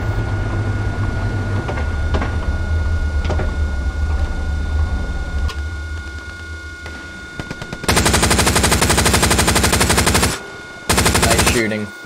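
Rapid machine gun fire in the World War II shooter Hell Let Loose, on the Omaha map near a Tiger tank: a low engine rumble gives way to loud, sustained automatic bursts that pause briefly and then resume.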